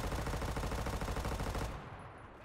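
A PPD submachine gun in Enlisted fires a rapid, continuous automatic burst for nearly two seconds, then stops abruptly, leaving a short fading tail.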